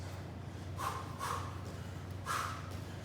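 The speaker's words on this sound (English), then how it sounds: "Good power breathing at the end." Three quick, forceful nasal exhalations, spaced unevenly, come from a martial arts practitioner doing power breathing during an adult and black belt training round, faint over a low steady hum.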